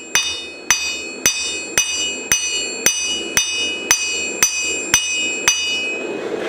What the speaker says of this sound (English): take your hammer marks out